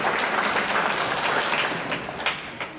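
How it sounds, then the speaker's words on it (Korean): A church congregation applauding during a Sunday service, a dense burst of clapping from many hands, close and loud, gradually tapering off near the end. "박수 한번 해요."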